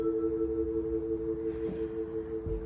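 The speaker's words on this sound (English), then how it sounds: "What that sounds like is, you can hear the warble." A warbling synth hook holds a sustained mid-range tone with a subtle wavering pitch, steady and fairly quiet over a low murky background.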